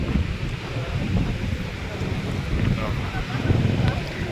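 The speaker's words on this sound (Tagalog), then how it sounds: "Lakas ng hangin, lakas ng agos, lakas ng alon." Strong wind buffets the microphone over a continuous roar of surf at Bagasbas beach, loud and close, with no clear voices.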